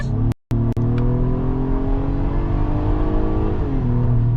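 A 2022 Acura MDX engine revs and pulls under acceleration in manual shift mode, a loud steady drone rising in pitch with a brief cut near the start, heard from inside the cabin.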